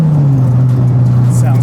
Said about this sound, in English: Sounds great. Super crisp throttle response.